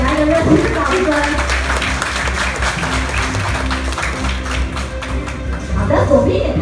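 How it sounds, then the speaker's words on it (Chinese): Warm applause from an audience at an award ceremony for a winner at the unveiling of the WinBus minibus, continuous clapping with a host speaking over it. "大家给他一个热烈的掌声"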